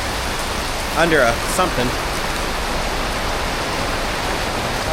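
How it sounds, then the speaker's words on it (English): Heavy rain pours steadily on a street in Kuala Lumpur, a dense continuous hiss close by, with a voice speaking briefly partway through. "It is raining pretty good."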